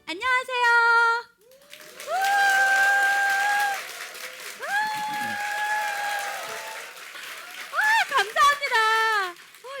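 Studio audience cheering and applause at a Korean Christian talk show, a bright crowd roar with sustained shouting tones between bursts of speech, loud and close.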